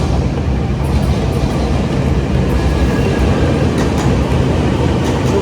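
A Taiwan High Speed Rail train produces a loud, steady low rumble with faint rhythmic clicks above it, a continuous roar with no voices.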